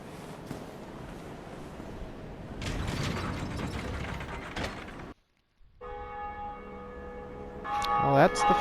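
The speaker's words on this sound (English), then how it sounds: "Well, that's the first bell rung." A church bell in the Dark Souls belfry rings amid clanking gears and ratcheting mechanism, loud and reverberant, then after a brief silence a sustained ringing tone returns with rising clatter.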